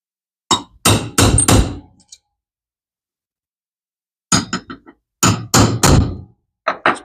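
Hammer blows strike a vintage Zebco 600 fishing reel spool during a repair, a quick cluster of four sharp metallic whacks, a pause, then another burst of five or six loud close hits.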